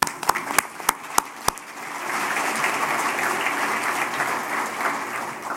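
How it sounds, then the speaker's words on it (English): A conference audience applauds: a few sharp, separate claps come first, then the clapping swells into steady, full applause from the crowd for the rest of the stretch. "This is where we're going to applaud a little bit."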